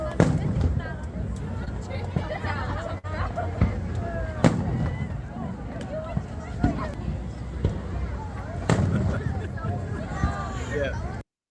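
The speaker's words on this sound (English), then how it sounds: "Me and Sierra were out at the 250th fireworks celebration, and this is what we experienced." Fireworks at a 250th celebration, irregular sharp bangs and pops popping through a busy crowd, with shouting and cheering throughout and scattered louder booms standing out over the chatter.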